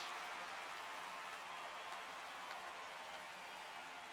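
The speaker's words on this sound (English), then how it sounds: "Why is it always raining in this game?" Rain falls in the baseball video game MLB The Show 26, a steady, even hiss of rainfall with no distinct drops, continuous at low volume throughout.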